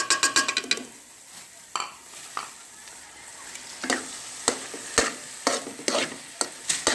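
Eggs frying in carrot halwa in a pan, with a spoon stirring and scraping against the metal in repeated sharp strokes over a soft, steady sizzle.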